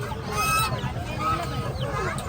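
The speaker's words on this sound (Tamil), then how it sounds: "இது வாத்து, அது நாட்டுக்கோழி." Ducks and country chickens at a busy outdoor market cackle and honk in overlapping bursts, fairly close and loud, amid crowd noise and background chatter.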